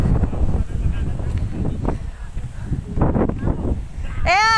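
Wind buffets the microphone with low rumbling gusts at Pagudpud, on the northern coast of the Philippines, while a voice speaks intermittently underneath.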